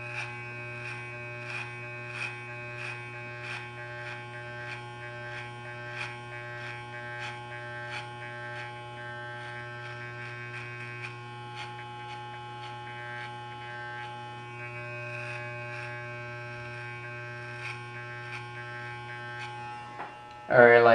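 Electric hair clippers buzzing steadily while cutting an undercut hairstyle, a close, constant motor hum that runs throughout with small variations as the blade moves through hair, ending in a louder burst.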